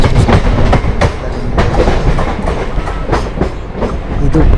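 A Mumbai suburban local train running on the Panvel to CSMT line, heard from inside: loud continuous rumble with rhythmic clickety-clack of wheels over rail joints throughout.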